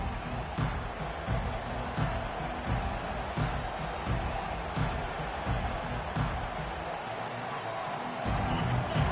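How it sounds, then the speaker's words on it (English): Steady roar of a large stadium crowd at a Minnesota at Iowa college football game, a broad continuous wash of many voices with occasional louder swells. "This crowd bringing the energy and noise early."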